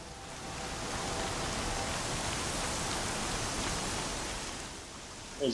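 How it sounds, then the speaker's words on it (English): Steady rain hisses in Horizon Zero Dawn as an even wash of noise, continuous and moderately loud, fading slightly near the end, with no talking. "It's raining sideways!"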